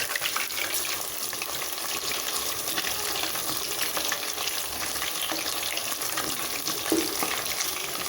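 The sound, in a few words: mushroom pieces frying in oil for Manchurian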